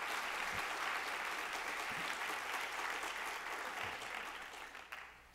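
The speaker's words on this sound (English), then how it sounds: "A big round of applause for Stephanie Tubbs Jones." Audience applause fills a symposium hall in Cleveland, a sustained dense clapping from a large crowd that holds steady and then begins to taper off near the end.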